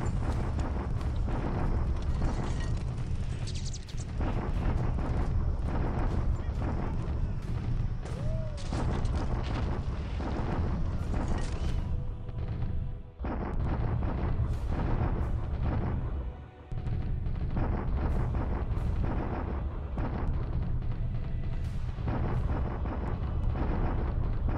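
Artillery bombardment in a World War II strategy game, a continuous loud barrage of booming explosions and rumbling blasts layered densely with brief dips, no voices heard.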